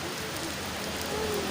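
Rain falls steadily with a soft, continuous patter on surfaces, forming a uniform hiss with no voices.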